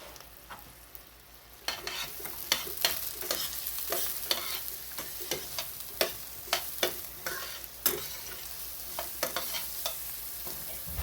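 Sliced onions frying in olive oil in a pan, a close steady sizzle broken by frequent scraping stirs, with no talking.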